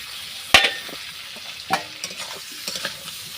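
Fried potatoes go into hot oil with onion and garlic and get stirred, bringing a sizzling bed, a sharp metallic clank of the spatula, then scattered scraping stirs close by, no voices.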